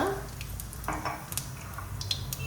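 Cumin seeds dropped into hot oil in a pan for tempering, producing a faint, steady sizzle with a few light clinks and scrapes of a utensil against the pan, no talking.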